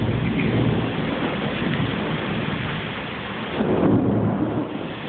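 Heavy tropical rain hisses steadily, with a deep rumble of thunder rolling underneath and swelling again near the end, all fairly close and with no talk.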